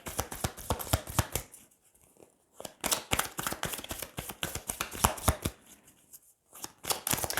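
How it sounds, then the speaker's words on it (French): Lenormand cards riffled and shuffled in quick crisp bursts, a pause, then more rapid flicking and snapping of cards being drawn, close and fairly quiet. "je vais tirer 9 cartes avec le Lenormand au lieu de 6 pour en savoir plus"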